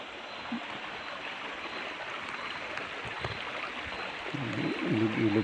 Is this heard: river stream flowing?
yes